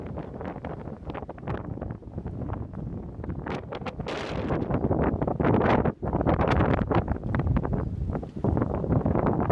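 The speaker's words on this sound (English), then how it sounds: "it's not actually raining, but it is windy" Hurricane-force wind of about 55 knots buffets the microphone at a marina in heavy, roaring gusts, with a brief drop in the middle before the blasts resume.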